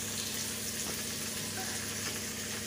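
Sliced onion deep-frying in hot oil for Nagpur-style thin poha chivda, a steady, quiet, continuous sizzle and crackle heard close up, with no voices.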